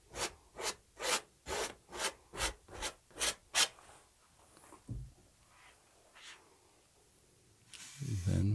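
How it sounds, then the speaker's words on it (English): A palette knife scrapes and presses oil paint into canvas in about nine rhythmic, evenly spaced strokes, each a short rasping rub, followed by quieter scattered scrapes and a soft thump near the end. "Really pressing the paint into the canvas here, scraping it."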